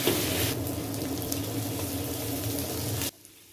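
Shrimp stir-frying with aromatics in a hot pan, a steady close sizzle and crackle that runs without a break, then cuts off sharply near the end.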